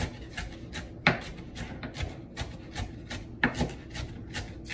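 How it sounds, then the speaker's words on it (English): A knife chops potato leaves finely on a board for a traditional Sierra Leone dish, making a steady run of crisp, rhythmic strokes that land close and moderately loud with no talking. "Cutting it up finely."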